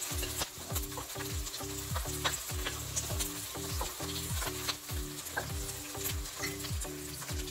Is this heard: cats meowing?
no